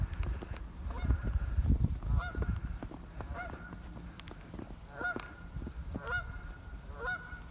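Repeated Canada goose honks, nasal and a little distant, come in short bursts over a soft low rumble of outdoor wind in a snowy park.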